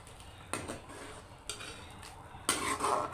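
Stirring dry coriander into tomato gravy for Lahori chana in a pot, with three scraping clatters of the spoon against the pan and a longer stir at the end, close and fairly quiet.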